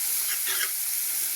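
Mustard fish curry with onion and a spoonful of ground mustard paste sizzles and crackles steadily in a pan, a continuous close bright hiss with no talking.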